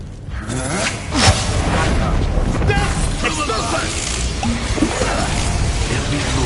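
Fiery spell blast in a Harry Potter video game, a sudden whooshing burst that swells into a sustained roar of flame and crackle, loud and dense, with a character's voice speaking over it.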